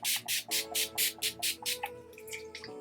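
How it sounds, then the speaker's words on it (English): Urban Decay All Nighter setting spray pumped from its bottle, about eight quick, close hissing spritzes in a steady rhythm, each a short airy burst, over faint background music. "I'm going to be using the Urban Decay All Nighter Setting Spray"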